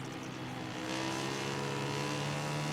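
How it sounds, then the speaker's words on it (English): Racing motorcycle engine in the MotoGP 19 game, a loud sustained high-revving whine that climbs in pitch as the bike accelerates, with no speech over it. "Yeah, so hear that engine."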